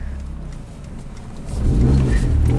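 A Dodge Neon engine close by, running at a low rumble before being revved, the sound swelling louder about halfway through and holding strong to the end.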